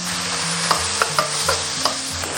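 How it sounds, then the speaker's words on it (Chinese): Minced pork sizzles in a little oil in a hot wok, with a steady frying hiss broken by sharp, evenly spaced scrapes and taps of a spatula stirring the meat. "然后先下入这个肉末，给它炒香"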